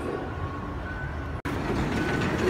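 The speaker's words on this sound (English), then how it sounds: "That's my train coming." A train pulling into a Dubai Metro station on the line to Rashidiya, a steady rumbling and rolling roar that fills the platform, broken by a brief dropout midway, with no talk over it.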